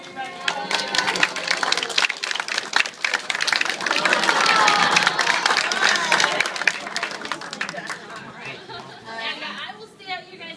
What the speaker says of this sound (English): Give him a nice round of applause before he gets running.